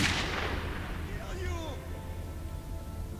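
Gunfire and heavy blasts in the video game Metro 2033, a loud broadband burst at the start that decays into rumbling echoes, with a faint voice-like cry in the middle of the fade.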